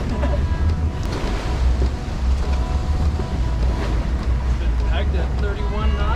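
A sailboat meets monstrous ocean waves in spicy conditions, heard as constant loud rushing water and surf with heavy wind buffeting the microphone and a deep, continuous rumble.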